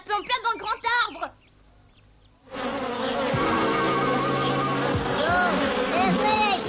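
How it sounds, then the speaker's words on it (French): A voice speaks excitedly, then after a short lull a dense buzzing of escaped bees swells up and continues steadily, with a few bird-like calls mixed in. "Oh, les abeilles! Les abeilles, elles se sont échappées!"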